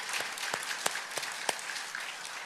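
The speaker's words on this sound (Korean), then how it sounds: "이 한 해 여기까지 인도해 주신 우리 하나님께 감사의 박수 올려드리십시다." A congregation at a Sunday church service gives a round of thanks, a steady wash of applause with several sharper individual claps standing out, moderately loud and close, with no talking.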